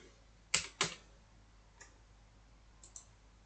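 A handful of sharp keyboard key clicks in a quiet room, two close loud taps followed by a few fainter isolated presses.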